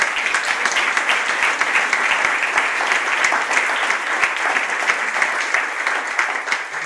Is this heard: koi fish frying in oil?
no